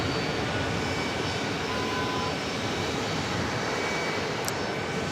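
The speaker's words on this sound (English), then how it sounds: "That's JetBlue 1346 coming in from Port of Spain" A JetBlue Airbus A320 arriving at JFK from Port of Spain gives an even, distant engine roar that stays level throughout with no talk.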